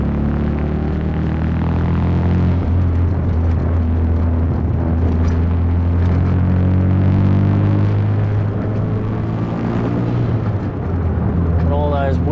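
The rotary engine of a Mazda RX7 Bathurst R drones loudly and close from inside the cabin, its note swelling and falling with throttle, with a voice talking over it.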